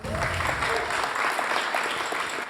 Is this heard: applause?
yes